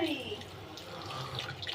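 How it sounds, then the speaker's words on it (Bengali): Hot water poured into a cooking pan of potatoes and ridge gourd with poppy seed paste, a steady close splashing pour running throughout. "এইবার আমি একটু গরম জল দিয়ে দেবো"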